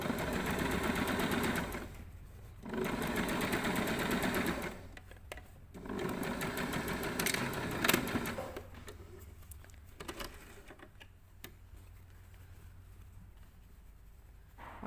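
A sewing machine understitching along a V-neck, running in fast rhythmic bursts of close, even stitching with short pauses between runs and slower, sparser stitches near the end.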